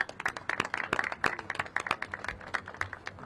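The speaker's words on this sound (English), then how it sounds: "Let's give that another round of applause." Scattered applause at an outdoor bike lane unveiling, fairly faint and light, with distinct individual claps from a small crowd over a few seconds.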